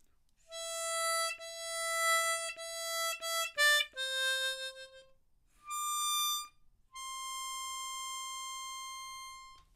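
Clear, reedy single tones from a C diatonic harmonica play a short melody, held notes and quick changes with brief gaps, ending on a long sustained note; no voices.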